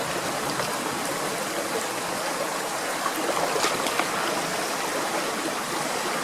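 A river flows steadily and close by during a wooded river crossing in Alabama, a constant broad rushing and burbling of water with no voices.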